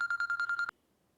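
Telephone ringing indoors: a rapid electronic trill of repeated pulses at a steady, fast rhythm, cut off abruptly after about seven pulses, followed by near silence.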